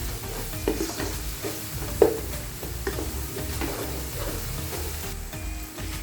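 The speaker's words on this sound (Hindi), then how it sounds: "अभी हम इसके अंदर 1 चम्मच कुटी हुई लाल मिर्ची शामिल कर लेंगे। इसके हिला लेते हैं।" Crushed red chili being stirred into aloo gobi frying in a pan, with a steady sizzle under scraping spoon strokes and a sharper clink near the start; no talking.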